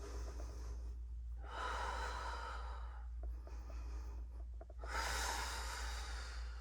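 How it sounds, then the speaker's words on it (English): Deep breaths during a breathing exercise, slow audible inhales and exhales in a few long swells, close and alone over a low steady hum. "And then you breathe. 2 more breaths."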